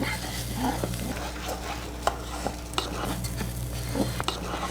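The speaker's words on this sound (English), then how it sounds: "add 1 cup of white rice. And stir that so the rice all gets nicely coated" White rice is stirred in a pan to coat it, and a soft sizzle runs under scattered scrapes and clicks of a utensil against the pan.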